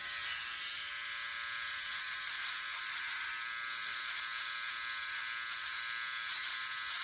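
A Philips Norelco OneBlade electric shaver trims along the neck with a constant thin, high-pitched buzz, steady and close throughout with no talking.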